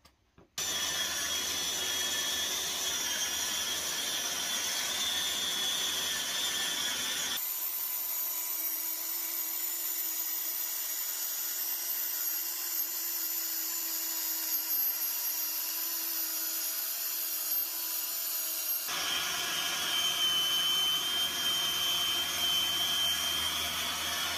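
A Bosch Professional 18V BiTurbo plunge saw runs steadily and loudly for the whole stretch, cutting its splinter guard on first use, its whine shifting in tone partway through as the blade cuts.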